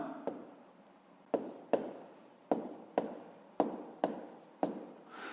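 An answer is written out during a fifth-grade math lesson, pen or chalk making about eight quiet, separate strokes and taps at an uneven pace.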